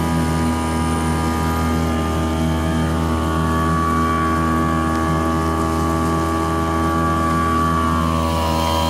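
A Mercury 3.3 outboard motor drives a Pelican Bass Raider boat at steady, loud, near throttle, its even motor drone and whine continuing throughout with water rushing beneath it and no talking.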